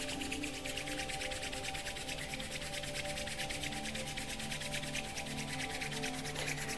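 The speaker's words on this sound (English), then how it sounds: "building some warmth and heat as you rub the palms together" Palms rubbing steadily together during a Kundalini yoga practice, a soft, continuous dry friction close to the mic, quiet and even throughout with no talking.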